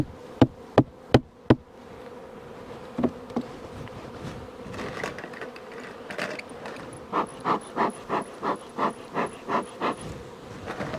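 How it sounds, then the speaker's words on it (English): Bees buzz throughout at close range, a steady insect drone marked by a burst of sharp knocks at the start and a regular run of thumps later on, with no talk. "Bunch of bees, bunch of bees."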